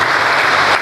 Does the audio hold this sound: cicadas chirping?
no